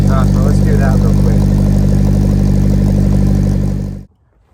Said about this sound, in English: hopefully you can hear me and I'm not just drowned out by the exhaust